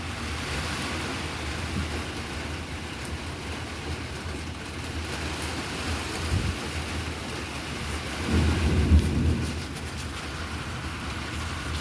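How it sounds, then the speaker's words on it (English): Steady rain pours during a severe thunderstorm, with a deep rumble of thunder swelling near the end over the constant downpour. "When there's rain, there's thunder."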